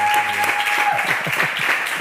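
An audience applauds at a music talk show, a steady, dense wash of clapping that holds for the whole stretch with talk faintly beneath it.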